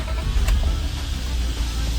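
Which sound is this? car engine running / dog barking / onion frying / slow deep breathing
car engine running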